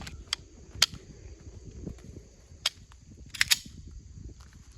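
Several sharp, spaced pistol shots from a Shadow Systems MR920 firing regular target rounds, sounding fairly distant with a pair in quick succession, over a low background rumble and no talk.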